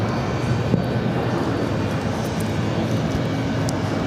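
A LATAM Boeing 767 airliner passes at JFK airport, a continuous broad engine roar at moderate level with a faint tick early on and no talk.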